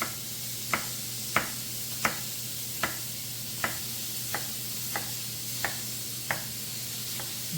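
Pork fries in a pan with a steady, close sizzling hiss, while sharp taps sound on a regular beat roughly every two-thirds of a second.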